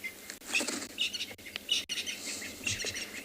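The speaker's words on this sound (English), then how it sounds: "we might see a lot of different birds come out. I can hear a lot of them." Several birds chirping and tweeting outdoors on a morning safari in South Africa, bright overlapping calls repeating at a moderate distance with no one talking.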